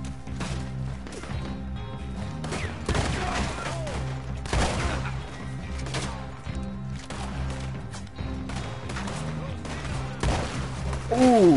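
Gunfire in the video game Red Dead Online, repeated shots and bursts over a steady backdrop of game music and ambience, loud and continuous, with a brief rising tone near the end.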